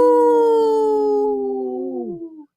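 A long, sustained howl slowly glides downward in pitch and fades out over about two seconds, while a dog joins in with its own howl close by.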